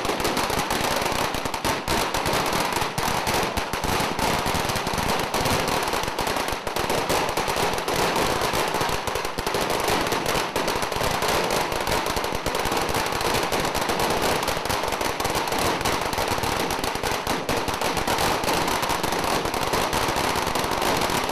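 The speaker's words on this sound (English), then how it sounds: "nothing matches the firecrackers that are lit at the end." A long, loud, unbroken barrage of firecrackers at the end of a 2022 Chinese New Year parade, dense rapid popping and crackling that never lets up, with no voices audible.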